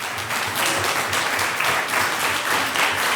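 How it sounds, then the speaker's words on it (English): Sustained crowd applause at a community meeting, a dense steady wash of many hands clapping for a speaker, holding at an even level from start to finish with no talk over it. "including one person who got a huge round of applause"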